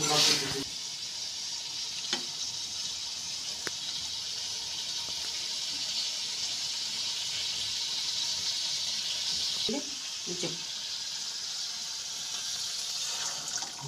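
Tea liquor poured into chicken kosha as it cooks in a pan, giving a loud, continuous sizzle with scraping stirs and light clinks throughout, and a brief bit of voice near the start.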